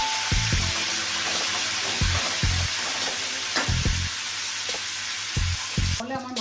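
Fish heads fry in hot oil in a pan, giving a loud, steady crackling sizzle with repeated low thumps and scrapes as the pieces are moved, ending in a brief clatter.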